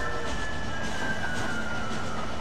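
Train carriage rolling along in the video game Red Dead Redemption, a steady broadband rumble with a faint high whine running through it, continuous and even, with no speech.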